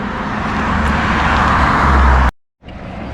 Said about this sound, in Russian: Вот сейчас большой поток машин.